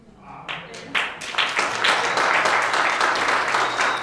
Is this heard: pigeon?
no